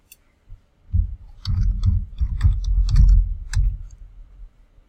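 Soft, muffled keystrokes on a computer keyboard come in a short cluster of clicks after a quiet start, then fade back toward silence.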